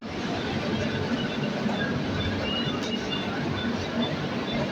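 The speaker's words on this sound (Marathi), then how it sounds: "हे बघा ट्रेन येली दादर फास्ट" A Dadar fast local train arrives at a busy station with a steady, loud rumble of wheels and carriages that continues throughout.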